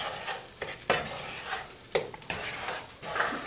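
Gnocchi fries in a pan while being stirred, a steady sizzle broken by several sharp scrapes and clacks of a utensil against the pan, close and fairly loud.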